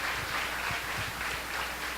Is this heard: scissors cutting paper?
no